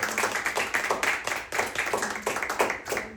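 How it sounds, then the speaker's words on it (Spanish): A church congregation claps in a brisk, steady rhythm, a crowd of many hands beating together at moderate distance with no talk over it. "Dale un aplauso fuerte a Cristo."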